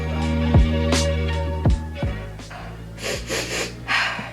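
A person sniffles repeatedly during an at-home eyebrow shaping session, several sharp nasal snorts and breathy intakes spaced a second or so apart, close and fairly loud with no speech.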